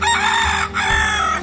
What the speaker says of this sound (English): there's our hen that turned out to be a rooster